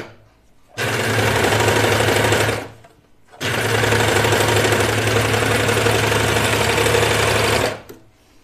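A serger sews a T-shirt sleeve in two loud, close, continuous runs, about two and four seconds long, with a short pause between them. Each run has a steady motor whir and rapid knocking of the stitch.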